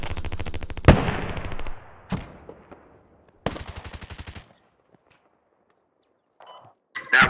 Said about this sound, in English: That was an AK though.